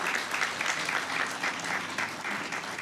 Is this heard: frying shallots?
no